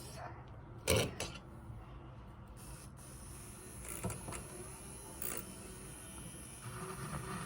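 A Kivi electric milk frother whisks milk with a low, steady motor whir, broken by a knock early on and a few faint bumps.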